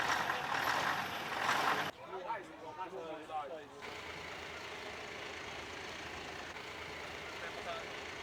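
A vintage bus departs from a bus rally at Stokes Bay, Gosport. A loud burst of hissing air opens, a voice speaks briefly, then a steady low engine drone continues in the background.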